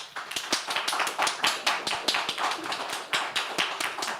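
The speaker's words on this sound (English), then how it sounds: "so clap if you like the Annihilators." An audience clapping to vote for a team name at a talk, a lively patter of many individual hands with distinct sharp claps and a slightly uneven rhythm, moderately loud and close.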